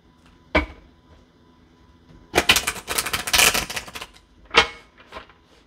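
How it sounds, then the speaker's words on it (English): Tarot cards being shuffled close up: a single sharp snap, then a dense riffling flutter lasting about a second and a half, and one more crisp slap of the deck near the end. "One more shuffle."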